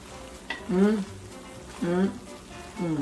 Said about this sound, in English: This is on super low simmer.